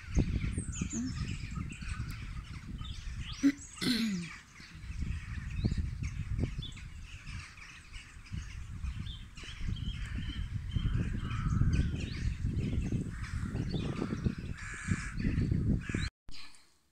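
Crows caw repeatedly over an open rice field, with other birds, including white geese, squawking now and then against a low rumble of wind.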